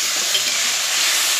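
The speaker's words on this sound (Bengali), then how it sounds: "এবার আমি একটু অল্প জল দিয়ে দেবো" Water poured into a hot pan of Bengali fish curry (parshe fish jhal, tomatoes and potatoes) hisses and sizzles steadily and loudly for a brief moment, close up, with no talk.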